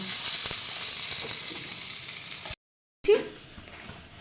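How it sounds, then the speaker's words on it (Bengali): Taro and potato pieces fry lightly in hot oil with a steady, close sizzle that cuts off abruptly, then returns briefly with a louder stirring clatter in the pan. "এবার কচুগুলো আমার ভাজা হয়ে গেছে, আমি হালকা করে ভেজে নিয়েছি।"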